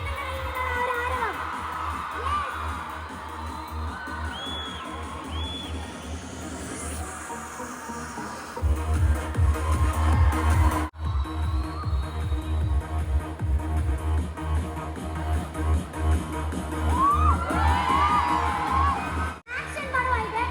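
A crowd cheers and roars for actor Dileep at a film promotion event at Lulu mall in Trivandrum, a dense, loud wash of voices and shouts that swells heavier partway through and carries on steadily.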